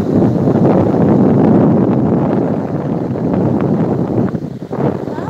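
Strong wind blowing across a beach with heavy waves, a loud continuous buffeting roar that swells and dips slightly throughout, with no voices.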